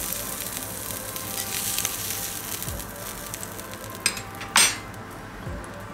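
Beef strips for a creamy entrecôte sauté sizzle in a pan with a steady soft frying hiss, broken by a couple of clinks of utensils against the pan and a brief louder scrape near the end.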